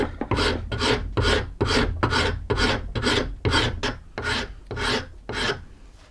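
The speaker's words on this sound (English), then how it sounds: "now he's scraping the hide off" A mechanical automaton figure scrapes a hide in a steady rasping rhythm, about a dozen close, loud strokes spaced roughly half a second apart, with no talk over it.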